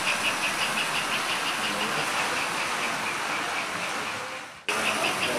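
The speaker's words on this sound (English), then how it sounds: "the Flyer engine is running so much faster, it's almost catching the other train" An American Flyer model train engine runs around a track loop, a steady dense whir with faint rhythmic clicking, loud and continuous, dipping briefly near the end before resuming.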